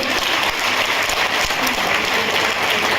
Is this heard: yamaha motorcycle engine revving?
no